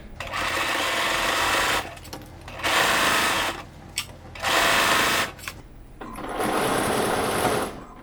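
A sewing machine stitches fabric for a scrap-fabric scrubs hat, running in four loud, steady bursts of about a second and a half each with short pauses between them, close to the microphone and with no talking.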